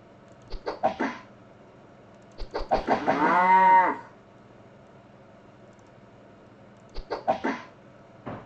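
Cows mooing in a Unity-made video game, three separate calls with a long drawn-out moo in the middle, clear and isolated against near silence.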